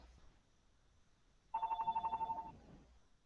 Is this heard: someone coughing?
no